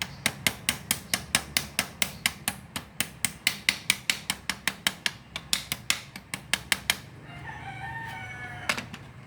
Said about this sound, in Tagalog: Pupukpok na lang natin ang martilyo.